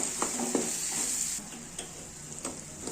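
Egg bhurji mixture with onion, tomato and garam masala stirred in a hot pan, a steady close sizzle with a few scraping clicks of the spoon against the pan.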